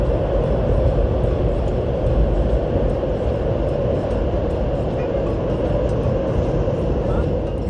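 GTX-A train at Seoul Station, a loud, steady low rumble with broadband roar that carries unchanged through the whole stretch.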